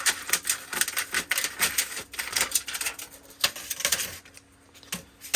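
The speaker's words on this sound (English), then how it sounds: "So you see it cuts pretty easy with just a pair of scissors." A pair of scissors snipping through thin sheet material in a knife-making workshop, producing a quick run of crisp, closely spaced cuts with a brief pause before a final snip.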